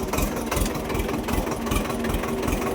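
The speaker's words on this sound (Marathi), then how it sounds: "तुम्ही पाहू शकता ट्रॅक्टर कसं चाललं आतमध्ये" A small tractor engine runs steadily nearby, a loud, continuous rumbling drone with a slight knocking pulse and no other sounds over it.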